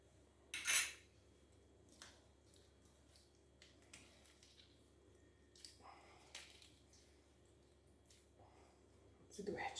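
A metal spoon strikes a bowl once, sharp and close, while a lemon-based Saharan bridal body scrub is mixed; a few faint scrapes and taps follow in a quiet room, ending with another small clink.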